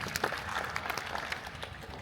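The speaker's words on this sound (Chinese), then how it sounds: "我希望我们大家为我们自己的工作鼓鼓掌" Conference audience at an automotive tech summit clapping together, a dense, steady patter of many hands with no voices over it, filling the whole brief stretch at moderate loudness.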